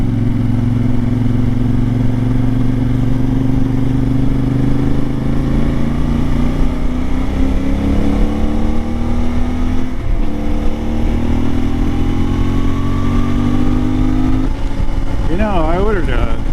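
A CFMoto Ibex 450 motorcycle engine burbles steadily while riding, with a sputtering, misfiring condition, its loud low drone shifting pitch throughout with wind noise.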